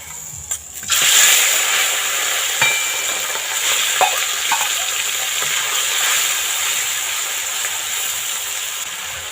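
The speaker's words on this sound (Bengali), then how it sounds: "তেলটা গরম হয়ে গেছে একইভাবে মাছটাও ভেজে নেব" Fish sizzles and hisses steadily in hot oil after a few clanks as it goes into the pan, with occasional utensil taps, for a village-style mixed fried rice dish.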